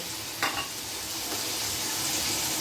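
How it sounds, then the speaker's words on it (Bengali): Ginger frying in oil in a pan for Bengali masala khichuri: continuous soft sizzling and crackle, with a brief scrape of stirring near the start, steady and close. "আদাটা ভাজা ভাজা হয়ে এসছে"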